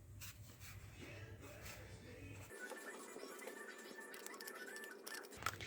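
Screws are driven by hand with a Phillips or flat screwdriver into an LED switch box, giving soft close scratching and rubbing twists at low level, with a faint voice under parts of it.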